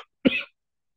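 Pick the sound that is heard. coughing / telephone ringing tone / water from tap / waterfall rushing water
coughing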